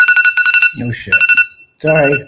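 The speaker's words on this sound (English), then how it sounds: "That's my alarm that I have to go pick up my son from school." A phone alarm goes off in quick, evenly spaced electronic beeps, loud and close, alternating with short bursts of someone talking over it.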